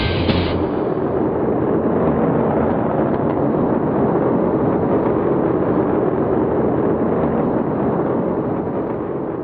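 Rocket launch vehicle engines producing 500 to over 1,000 tons of thrust at liftoff roar as a loud, steady, continuous rumble with no letup for the whole stretch, no voices over it.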